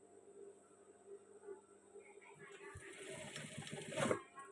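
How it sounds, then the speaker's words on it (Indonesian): A sewing machine stitches the crotch seam of trousers, its whirring run rising in the second half and peaking near the end, heard faintly under a person talking. "Nah, ini kita jahit pas bagian pesaknya."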